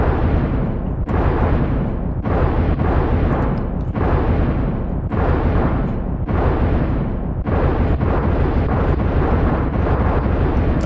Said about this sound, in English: That's a lot of explosions for an insect.